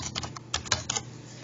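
Quick light key taps entering an equation into a calculator, about eight soft clicks in a brief burst, close and quiet with no voice.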